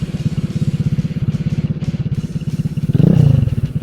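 A GY6 scooter engine runs at full throttle uphill, its loud, close, rapid pulsing drone swelling slightly near the end.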